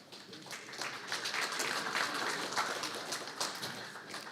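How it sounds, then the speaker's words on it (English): Audience applause at an academic economics conference, a steady moderate wash of clapping from a seated crowd that holds evenly throughout without talk over it. "Applause."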